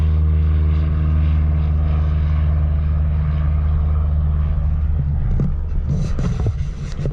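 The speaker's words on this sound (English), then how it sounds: "That's one of South Warwickshire Flying School's finest, taking to the air as we speak." A South Warwickshire Flying School light aircraft takes off from an airfield, a loud steady propeller engine drone with wind buffeting on the microphone, beginning to fade and break up toward the end.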